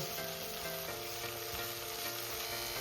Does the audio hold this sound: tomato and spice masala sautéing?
yes